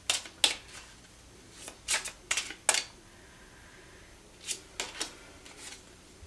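Tarot cards being shuffled and drawn, with several crisp, close riffles and snaps in short bursts separated by quiet pauses.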